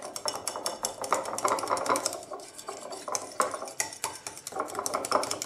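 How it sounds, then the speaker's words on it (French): Homemade firming cream mixture stirred steadily in a bowl, the utensil clinking and scraping against the sides in a quick, continuous rhythm, close and fairly loud with no talking. "pour éviter les grumeaux, ils disent de mélanger au fur et à mesure"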